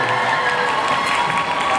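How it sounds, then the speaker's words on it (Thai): At a press conference for BamBam's 2023-2024 first world tour, an audience claps and cheers in a dense, continuous burst of noise throughout. "ปรบมือหน่อยได้ไหมคะ"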